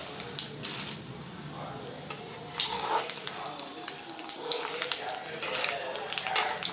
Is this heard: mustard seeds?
yes